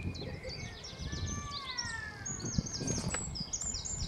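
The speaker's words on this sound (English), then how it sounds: "can you hear the birds, lots of birds" Many birds chirp and tweet faintly in the distance over a soft outdoor hum, with light rustling and no voices, at a caravan park in Looe, Cornwall.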